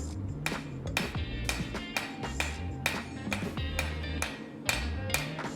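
A hammer forges a knife blade on an anvil, striking in a steady rhythm of ringing metallic blows roughly twice a second, close and clear over a low background hum.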